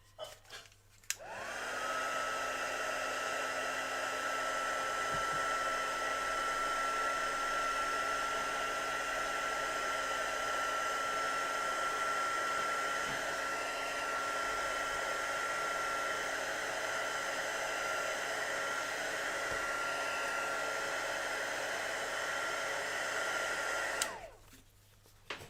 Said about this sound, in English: I will just get my heat tool on that.